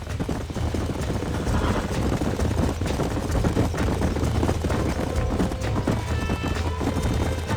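Horse hooves clip-clop steadily in the Western video game Red Dead Redemption, a continuous close rhythm of several horses on a ranch under a dense bed of ambient game sound, with no talking.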